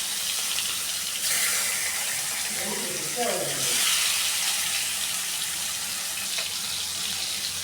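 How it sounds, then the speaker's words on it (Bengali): Fish fries in hot oil in a wok, giving a continuous sizzling hiss that swells and eases a few times, with a voice briefly audible in the middle. "কড়াইতে তেল দিয়ে দিয়েছি, তেলটাও গরম হয়ে গেছে। এবারে আমি মাছগুলো ভেজে নেব।"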